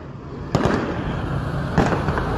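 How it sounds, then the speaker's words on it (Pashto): Celebratory gunfire rings out in Kandahar during an independence celebration, two sharp bursts of cracking shots over a steady crowd and outdoor background. "د خوشحالۍ ډزې هم شروع دي"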